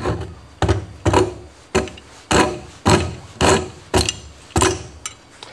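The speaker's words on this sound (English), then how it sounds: "We can take the rasp" A hand rasp rounds over the edge of a wooden piece in rhythmic, loud scraping strokes, about ten even passes in quick succession with short gaps between them.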